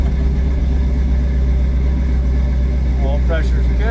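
Engine of a 1965 Chevy Nova wagon running at a high choke idle, a steady, loud low rumble throughout, close by, with someone briefly talking near the end.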